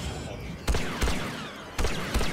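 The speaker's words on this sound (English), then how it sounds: "Boba's shooting at me." Blaster fire from Boba Fett in the Star Wars Battlefront 2 video game, a few sharp, punchy shots spaced out over a couple of seconds against a busy, noisy battle background.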